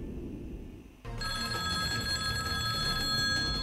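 Telephone ringing with an incoming call in a broadcast studio setting, a steady electronic ring that starts suddenly after a second of background noise and continues clearly and fairly loudly to the end.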